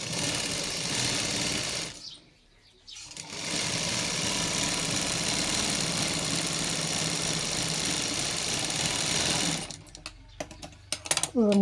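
A sewing machine stitches the lining of a baby frock, running in a loud steady whir for about two seconds, pausing briefly, then running long again before stopping into a few clicks and handling noises.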